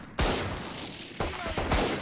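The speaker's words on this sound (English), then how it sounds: "All the bullets are just flying right by me" Gunfire in the Valorant shooter game: loud, close bursts of rapid shots crack in quick succession, forming two dense volleys within about two seconds with no talk over them.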